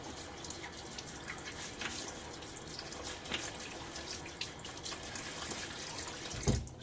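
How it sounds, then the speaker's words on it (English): Running tap water while a man rinses his face during a wet shave with a Blackland Dart razor, a steady close splashing and trickling stream with a brief louder splash near the end. "Rinse my face."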